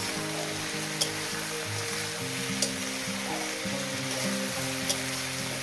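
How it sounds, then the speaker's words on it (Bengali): Small river fish and Malabar spinach frying in oil, a steady close sizzle with a low tonal hum beneath and a few sharp crackles and spatters, with no talking. "এর মধ্যে কিন্তু কোনো জল দেবেন না এই তেলের মধ্যেই ভাজাতে হবে"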